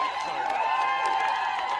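A crowd outdoors cheers and whoops as women walk out, a dense, steady roar of mixed voices heard at a moderate distance, continuous through the moment.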